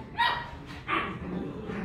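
Three-week-old puppies give two short, high yipping barks, close and fairly clear, over a quiet room background.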